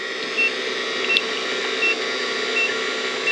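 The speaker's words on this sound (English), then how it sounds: "It's beeping" An electronic tester beeps during a battery check on a Mitsubishi, short high tones repeating roughly every three quarters of a second over a constant hum, close and moderately loud.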